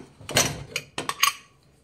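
Pressure cooker lid opened after cooling, with a few sharp metallic clinks and clacks in quick succession, close and moderately loud, ending in quiet.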